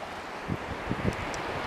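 Wind blows across an open beach in a steady, rushing roar that buffets the microphone, with a few soft bumps and no voices.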